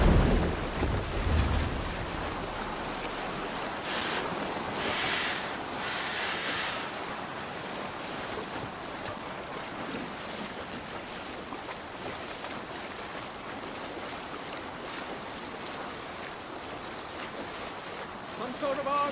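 Viking longship sailing the open sea in Assassin's Creed Valhalla: steady wind and rushing waves with surf bursts, a broad continuous wash of water and air throughout.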